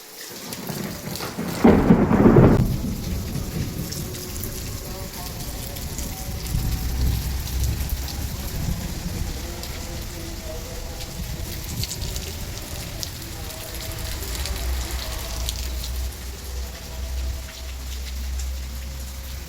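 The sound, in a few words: thunderstorm with heavy rain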